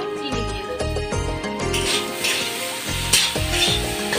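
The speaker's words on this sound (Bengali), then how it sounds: "এবার এটাকে আমি নাড়াচাড়া করবো, অল্প সামান্য মাত্র পরিমাণ মতো।" Ground spice paste of ginger, chilli, cumin and garam masala sizzles steadily in a hot pan, stirred with a few scraping strokes, close and moderately loud with no talk.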